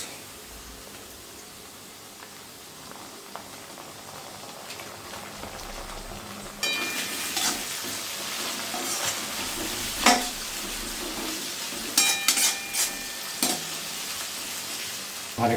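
Pasta sauce of spices, tomato sauce and a little soy sauce sizzling and frying in a pan while being stirred, quiet at first then louder from the middle on, with steady hiss and sharp scraping stirs.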